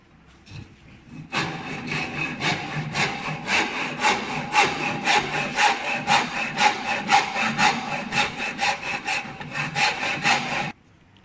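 Wood being worked with a rasp while cutting a dovetail halving joint, a steady run of rhythmic rasping strokes, close and loud, continuing for about nine seconds with no talk.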